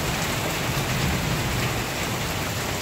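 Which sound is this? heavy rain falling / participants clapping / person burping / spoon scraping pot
heavy rain falling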